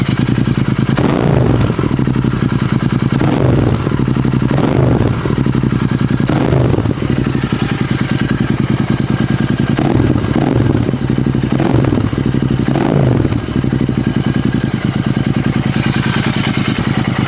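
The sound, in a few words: GT 650 motorcycle with SSP exhaust, idling and revving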